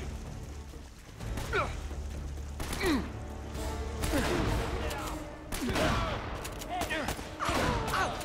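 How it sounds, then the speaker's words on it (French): Shotgun blasts in Uncharted: Drake's Fortune Remastered, several loud, sharp reports spread irregularly through an ongoing firefight with other gunfire and game noise; a voice talks at times. "je lui tire dessus au fusil à pompe"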